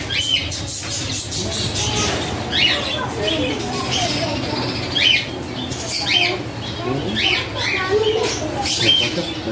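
A blue pet bird at a Florida flea market squawking repeatedly in short sharp bursts, spaced every second or so, under people talking and general market bustle.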